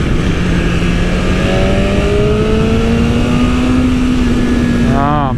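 A BMW S1000 motorcycle accelerates hard on the road, its loud engine tone climbing steadily through a long pull with rushing wind noise, then dropping sharply at a quick upshift near the end.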